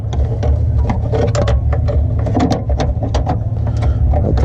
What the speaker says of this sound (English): You put the battery tray in, and you put the 3 bolts back in